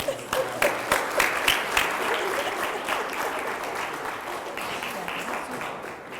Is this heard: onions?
no